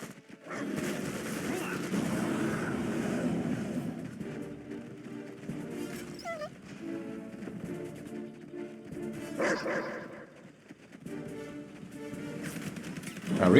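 Vindicator planes bomb enemy positions in a real-time strategy game, a dense, continuous clatter of gunfire and explosions that runs loud throughout and swells again near the end.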